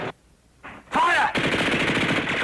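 Rapid gunfire from a war film combat scene erupts loudly after brief sounds, a dense sustained burst of machine gun fire with a whistling streak near its start.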